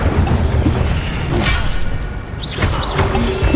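The Incendio fire spell being cast in the video game Hogwarts Legacy, a loud booming burst with thuds and whooshes followed by swishing magical effects, packed into a few seconds with no talk.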